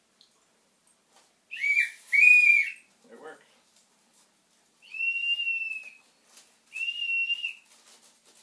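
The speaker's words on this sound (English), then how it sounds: "It's a little wee whistle." A small toy whistle blown in several shrill, wavering blasts at a home dinner table, with a short spoken remark between blows.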